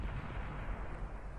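Tank cannon fire in the World of Tanks video game on Xbox, a dense burst of low, booming shots heard quietly and alone.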